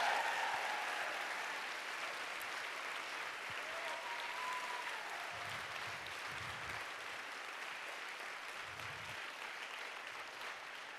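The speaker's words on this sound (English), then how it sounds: "A round of applause for them." A live event crowd applauding sixteen speakers, sustained, fairly distant clapping that fills the room and slowly tapers, with a few faint voices at the start.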